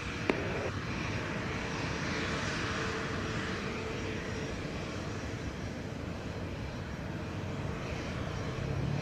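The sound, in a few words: jet airliner engines at Montego Bay airport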